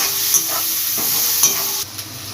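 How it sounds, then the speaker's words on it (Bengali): Onions fry in a pan for a sperata aor fish curry, a loud close sizzle with several distinct stirring scrapes at intervals and no one speaking. "দিয়ে ভালোভাবে ভেজে নেব এটা ভাজা হোক"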